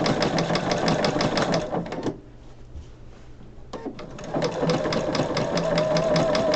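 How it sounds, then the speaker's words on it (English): A sewing machine stitches a mock buttonhole stitch in rapid, even mechanical clatter, pausing for about two seconds mid-clip before resuming at the same quick pace, close and loud with no talking. "I have my machine set so that the needle stops in the down position each time, and that makes it much easier for me to pivot."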